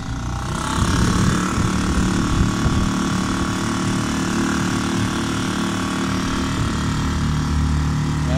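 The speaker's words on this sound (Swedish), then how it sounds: "Vi har motorn igång, jag kommer pausa lite sådär." A boat engine drones steadily at sea at an even, constant level, with low rumbling and some splashing texture, no voices present.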